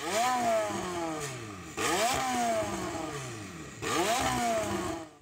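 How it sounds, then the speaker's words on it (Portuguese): A McLaren 720S sports car engine revs hard three times in succession, each loud burst rising sharply then falling away with a brief pause between, close and clear with no talking. "vamos ouvir a McLaren"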